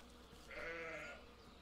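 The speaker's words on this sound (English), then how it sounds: "Come this way, sheep." A sheep bleats once in the video game Force Of Nature, a short mid-pitched bleat over a low steady game ambience.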